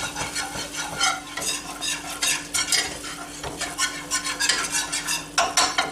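Flour roux for a chicken pot pie sizzles steadily in a pan while a spoon scrapes and clinks against the metal, a continuous close, busy frying hiss with irregular stirring knocks and no talk.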